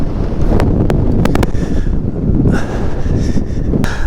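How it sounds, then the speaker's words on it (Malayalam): Strong wind buffets the microphone in heavy, rumbling gusts on a rocky hilltop at Ilaveezhapoonchira around dawn, with a few sharp clicks and distant roaring through the blasts. "അയ്യോ കാറ്റ്,"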